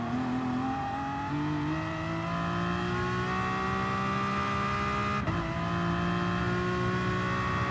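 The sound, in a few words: Aston Martin DP100 VGT engine in Gran Turismo Sport video game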